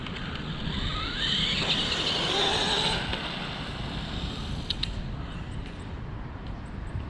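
Traxxas Rustler 3S RC car driving outdoors, a high whining motor that rises and falls as it pulls away, heard through steady wind rumble and fading toward the end, with no talking.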